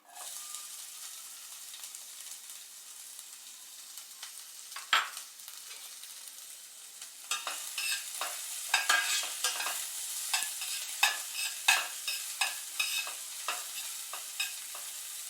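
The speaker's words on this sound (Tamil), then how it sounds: "வெங்காயம் நல்லா ப்ரௌன் கலர் வர வரைக்கும் நல்லா வதக்கிடலாம்." Onions frying with whole spices in a pan, a continuous sizzle that turns livelier midway, with frequent stirring scrapes and spatula knocks against the pan, close up and with no voices.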